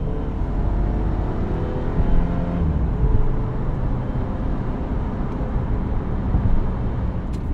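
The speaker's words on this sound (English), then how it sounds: "Now I'm about to head off onto the highway here, and I'll show you how the transmission's been shifting." A Subaru car accelerates onto a highway, its engine and road noise holding a steady loud drone with slight swells as the transmission shifts, no voices over it.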